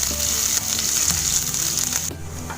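Crushed garlic and ginger fry in hot oil with a steady, close, bright sizzle that holds evenly for about two seconds before cutting off abruptly.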